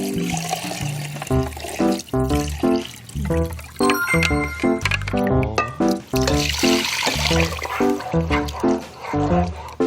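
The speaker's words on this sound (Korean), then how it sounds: "그러니까 전부에서 한 3컵 정도 물을 넣어주시면 돼요" About three cups of water pour into a pot for a saury soup, a close, loud, gurgling stream with ringing, resonant splashes that rise and surge in waves for several seconds.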